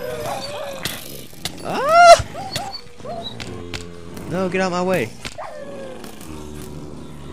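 Dogs in the Minecraft video game barking, yelping and growling during a server arena match, several short sharp cries in quick bursts, mixed with a player shouting over them.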